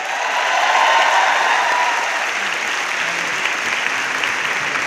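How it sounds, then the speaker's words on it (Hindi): Loud, dense applause from a large audience at the Forever Success 2026 event in Delhi, sustained and steady for the full five seconds with no voices over it. "एक बार जोरदार तालियां"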